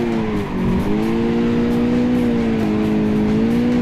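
A car drifting under throttle and steering holds a loud, steady engine drone that wavers in pitch as the revs shift, with faint tire noise and no talking.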